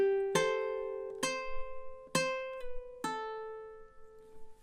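Measures 3 and 4 of The Office theme on ukulele: four evenly spaced strummed chords with light brushed strokes between, bright and sustained, heard alone at close range.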